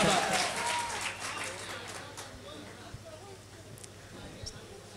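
An audience at a Hindi-Urdu poetry mushaira applauds, the clapping strongest at first and then fading out over a few seconds into quieter hall noise.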